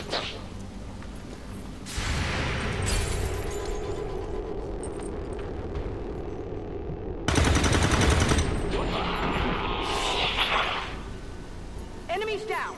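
Grenade blast and gunfire in the video game XCOM 2, bursts of loud shots and explosive whooshes over a continuous game soundscape, with speech throughout.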